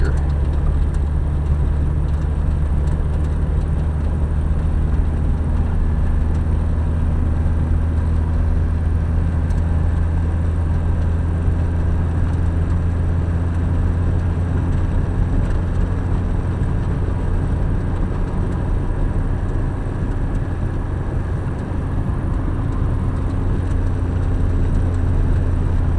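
A 1982 VW Rabbit diesel car cruising in fifth gear: a steady, loud interior drone of engine and road noise with a low hum, continuous for the whole stretch.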